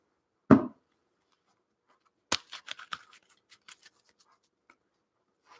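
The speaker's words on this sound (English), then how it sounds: "I'm going to hold these up for a second while I'm shuffling these." Tarot cards being shuffled by hand: a single soft thump, then after a pause a quick burst of crisp riffling clicks that taper off into a few scattered taps, close and fairly quiet with no talking.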